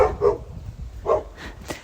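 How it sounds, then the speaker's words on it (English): Angry guard dogs at the top of a hill bark in short, sharp bursts, three or four loud barks spaced unevenly with no one talking. "Two angry guard dogs who terrify me"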